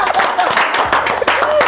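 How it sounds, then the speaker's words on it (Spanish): An audience at a televised singing competition interview in El Salvador applauding, a loud, dense wash of clapping close up, with faint speech mixed underneath. "Por favor, un aplauso para Jorge, para Walter"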